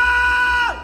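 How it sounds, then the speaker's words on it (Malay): A shrill, sustained scream effect sounds in a Malay horror audiobook, piercing and steady before its pitch drops off sharply at the end, under a second long. "Satu jeritan nyaring keluar dari mulutku"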